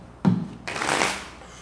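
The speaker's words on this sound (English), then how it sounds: "Let's get two more shuffles." Tarot cards being shuffled by hand, two close, crisp bursts of riffling paper, a short one followed by a longer, fuller ruffle that fades out, with no voices.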